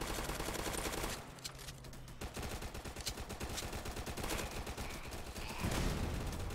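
Video game assault rifle gunfire rattles off in fast, steady bursts of sharp shots, fairly faint and continuous, with no talking.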